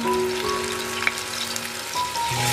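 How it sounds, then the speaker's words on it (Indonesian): Ground spice paste sizzles and fries in hot cooking oil, a steady crackling hiss with occasional stirring, close and continuous with no talk. "Kalau minyaknya sudah agak panas, masukkan bumbu yang sudah kita haluskan tadi."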